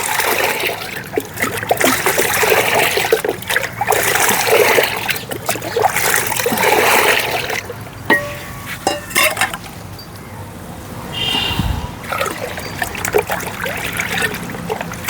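Water splashes and trickles in a bucket as a plant feed solution is mixed in for vegetable plants, with clinks and sloshing bursts that are busy at first and then thin into scattered drips and knocks.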